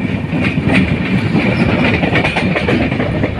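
The Madhumati Express, with LHB coaches, rolls into the platform at Ishwardi Junction with a loud, close, continuous rumble and rhythmic clickety-clack of wheels over rail joints, with no voices.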